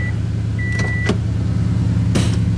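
A Subaru WRX turbo car engine idles with a low steady rumble, broken by a few brief mechanical clicks and a faint whine.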